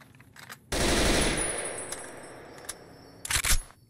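A CZ-805 Bren rifle in Fallout New Vegas fires one rapid automatic burst lasting nearly a second, loud and close with a ringing tail, then a brief short burst follows.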